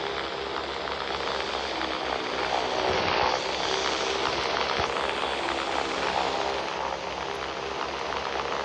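A P-63 propeller fighter's engine in a video game drones continuously as a loud, steady roar with broadband buzz, briefly swelling midway, and no talking over it.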